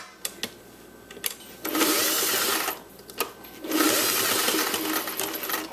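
Sewing machine stitching a custom corset, two sustained runs of whirring stitches separated by a pause, with sharp clicks and taps of handling in the gaps, close and without speech.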